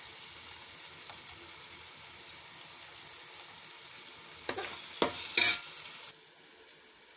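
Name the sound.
chili powder and salt frying for fish curry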